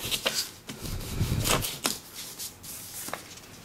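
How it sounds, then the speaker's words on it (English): Construction paper torn against a ruler, a few short, close ripping and crackling bursts separated by brief pauses. "I'm just going to tear it with the ruler and try and make it as neat as possible."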